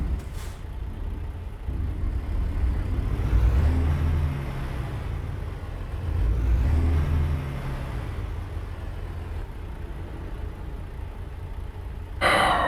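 Road traffic in the American Truck Simulator game near Amarillo, Texas, with cars passing in two broad swells of engine noise over a steady low drone, and a short hiss at the end.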